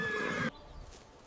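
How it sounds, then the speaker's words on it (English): Horses whinny loudly in a short burst that cuts off after about half a second, followed by quieter low shuffling of hooves, set among waiting cavalry before a battle at Tippecanoe. "Horses paw the ground, nostrils flaring as cavalry waits for the order."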